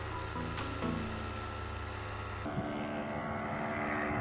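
Paramotor engine droning in flight over Ilha do Mel, Paraná, on the final approach to landing; a steady, moderately distant propeller hum with a tonal buzz that shifts and thins partway through, with no talk.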